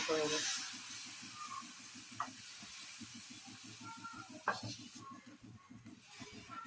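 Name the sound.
mung bean dosa batter poured onto an oiled hot tava, sizzling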